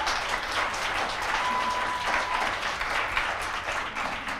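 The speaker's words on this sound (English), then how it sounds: "Please give a round of applause." Steady audience applause during a campus talk show holiday special, filling the space evenly at moderate volume for several seconds with no talk over it.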